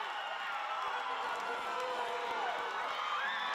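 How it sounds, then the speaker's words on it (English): Crowd cheering at a women's rugby match between Samoa and Tonga in the Oceania Rugby Women's Championship, a steady roar with whoops rising after a try, loud and continuous throughout. "We can hear the crowd coming alive for this Lofa Tonga side."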